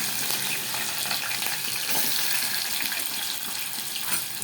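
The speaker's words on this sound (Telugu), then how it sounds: "2 ఆనియన్స్ వేసానండి. అవి బాగా ఫ్రై అవ్వాలండి." Steady, dense sizzling of onions frying in a pan, a continuous bright crackle with no voices, close up.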